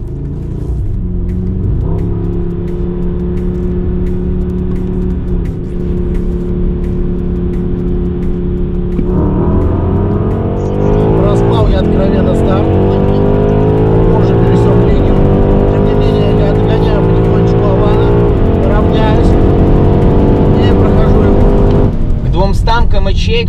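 A BMW X6M, a Mercedes-AMG GLE 63 S and a Lamborghini Urus launch side by side in a drag race, engines droning loudly and then surging as they accelerate hard, with a voice speaking over the roar.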